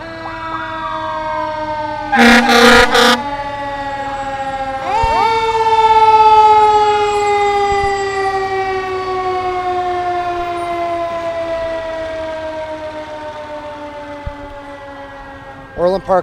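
A loud, close fire truck siren wails in long sweeping tones during a parade, punctuated by short blasts of an air horn near the start.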